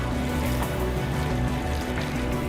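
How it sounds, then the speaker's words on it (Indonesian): Fuel poured from a jerrycan into an open drum, a steady, dense liquid rush that keeps going without a break over a low background hum. "menuangkan BBM dari dalam jerigen ke dalam"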